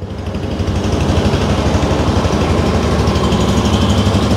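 A 2023 Yamaha EZ115 engine idles steadily at close range, a loud, even putter with a fast regular pulse and no voices.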